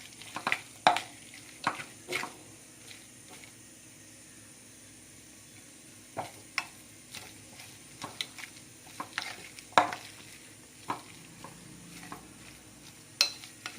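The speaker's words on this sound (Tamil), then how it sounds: "நான் ஃபுல்லாக மிக்ஸ் பண்ணிவிட்டு காட்டுறேன் உங்களுக்கு." Mutton keema mixture being stirred and mixed with a spoon after lemon juice is added, giving soft irregular scraping and clicking strokes against the bowl, moderately close with quiet pauses between bursts.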